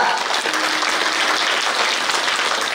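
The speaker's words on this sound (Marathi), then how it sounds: "टाळी वाजवा या सर्व टाळकऱ्यासाठी" A crowd at a devotional kirtan gathering claps steadily and densely throughout, a sustained wash of hand claps with no voices standing out.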